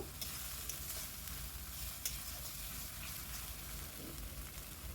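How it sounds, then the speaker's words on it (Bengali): Cauliflower manchurian with red chili sauce and soy sauce being stirred in a pan, a steady close sizzle of frying with scraping spoon strokes running throughout, no voices. "এবার ভালো করে এটাকে একটু নাড়িয়ে নেব এক মিনিট একটু কুক করে নেব"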